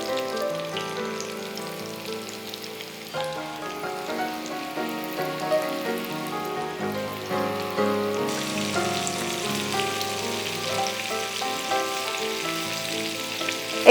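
Chicken lollipops deep frying in hot oil, a steady dense sizzle and crackle that runs throughout, with a brief clink near the end; no talking.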